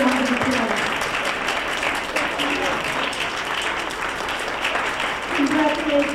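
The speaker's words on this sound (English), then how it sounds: "So we can give you a round of applause." Sustained applause for parents, guardians and grandparents standing at an awards dinner in Secaucus, New Jersey, steady dense clapping throughout with a few voices faintly audible underneath.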